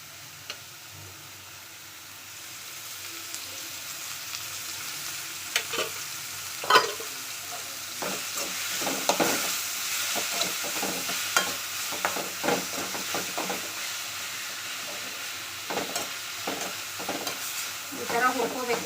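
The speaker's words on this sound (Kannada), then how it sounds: "ಎಣ್ಣೆ ಹಾಕಿ ಈ ಥರ ಇದನ್ನು ನಾನು ಹುರ್ಕೋತೀನಿ" Pundi palya greens fry in oil with a steady, close sizzle that swells after a quiet start, punctuated by frequent clicks and scrapes of stirring.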